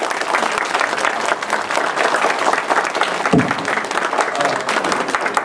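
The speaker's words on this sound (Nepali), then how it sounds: "हामी सबैले एकचोटि आज ताली लाउँ न सबै" Loud, close audience applause at a church Christmas program, dense clapping from a crowd sustained throughout without a break.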